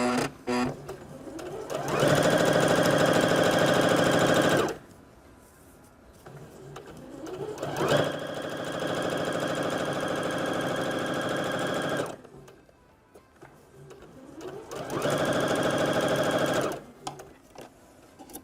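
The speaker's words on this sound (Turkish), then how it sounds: "Düz dikişle normal standart baskı ayağıyla dikiyorum." Sewing machine with a standard presser foot stitching a straight seam on a fabric bread bag, a steady close whirring hum in three sustained runs separated by short pauses with faint handling.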